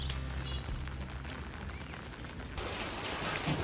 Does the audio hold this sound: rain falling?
yes